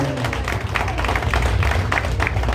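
An audience at a PPA-CI political general assembly in New York claps loudly in a dense, continuous wave of applause, with crowd voices mixed in.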